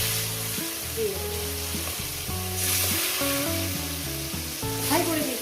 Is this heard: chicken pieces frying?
yes